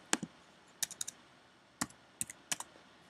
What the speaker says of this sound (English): You can manually type it in